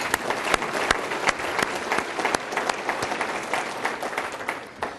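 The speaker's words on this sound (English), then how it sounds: "Let's give them a round of applause." An audience at a city meeting gives a round of applause for city staff, a busy, crackling clapping with distinct individual claps standing out, fading slightly at the end.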